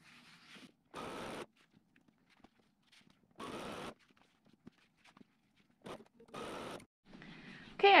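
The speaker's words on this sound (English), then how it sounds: "So I'm just going to sew these end to end until they're all sewn together." Fabric border strips sewn end to end on a sewing machine, several short bursts of close stitching separated by quiet pauses, with faint handling noises in between.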